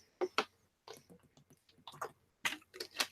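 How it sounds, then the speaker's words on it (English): Soft, close swallowing and wet mouth sounds of someone drinking water, in a few small bursts with brief pauses between gulps. "Let me get a drink of water for a second."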